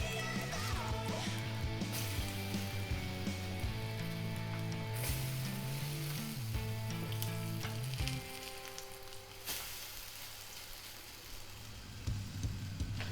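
Potato pancakes fry in a pan with a steady, close crackling sizzle and spitting oil pops, the bubbling easing slightly partway through before continuing alone.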